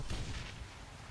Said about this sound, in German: Panther Sword Cannon. Ja, da würde ich sagen, schieß doch mal auf den Combat Mage.